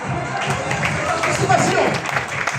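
Audience applause fills a short, steady stretch of dense clapping at an event, with voices talking over it throughout.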